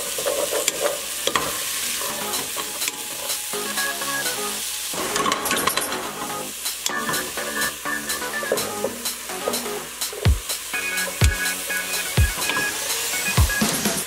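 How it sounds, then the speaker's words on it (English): Vegetables with chili puree and beef stock sizzling loudly in a pan, with a steady frying hiss, frequent stirring scrapes and utensil clinks against the pan, close and without voices. "The moisture from the veggies is gonna start to deglaze the bottom of the pan"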